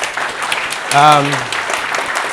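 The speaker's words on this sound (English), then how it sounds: "So just would ask you for a big applause because of her." Conference audience at a developer event applauding, a steady wash of clapping with a brief voiced cheer or shout rising above it midway.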